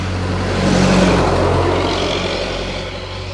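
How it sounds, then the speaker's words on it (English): A school bus passes by on a road in Thailand, its engine rumbling louder as it approaches and nears, then easing off as it moves away. "here comes the school bus"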